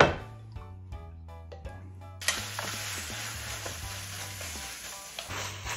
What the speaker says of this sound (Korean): 이렇게 김치를 어느 정도 볶다가